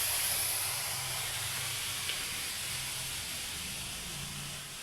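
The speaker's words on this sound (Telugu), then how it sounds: "ఇక్కడ టీ మరుగుతుంది." Tea boils on a stove with a steady, soft hiss and a low rumbling undertone that fades slightly toward the end.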